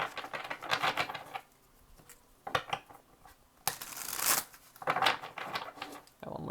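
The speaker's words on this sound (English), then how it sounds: "2 more shuffles for Virgo" Tarot cards shuffled by hand in bursts of riffling and slapping, close and crisp, with short pauses between shuffles and a faint voice now and then.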